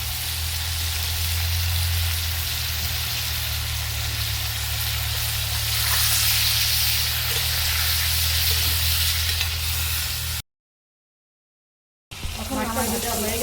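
Prawns frying in hot oil in a pan give a steady, fairly loud sizzle with a low hum beneath, breaking into a short silence before the sizzle returns with faint voices near the end.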